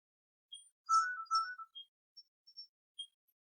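Phone ringing, a faint electronic ringtone of short chirping tones repeated in a sparse pattern against silence.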